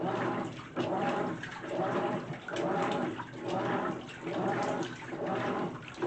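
A GE washing machine on its normal cycle, filled to a high water level, churns and circulates water in steady surging swells that rise and ebb about every second, loud and close with no voices.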